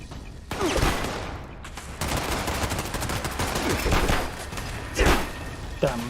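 Rapid gunfire bursts and heavy grenade blasts from a Fallout 76 game session, loud and dense throughout, with sharper explosive thumps standing out near the end.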